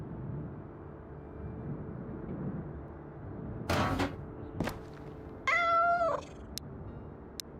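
A cat in the Road to Vostok video game gives one clear, drawn-out meow after a couple of dull thumps, over a steady low ambient hum.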